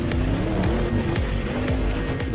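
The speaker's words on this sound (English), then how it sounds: "we then drive over the entire patchwork quilt of ice and asphalt with full load acceleration" A 2021 Audi RS7 Quattro accelerates at full load across patches of ice and asphalt, its engine roaring loudly and continuously. Tires squeal and skid in repeated rising and falling sweeps.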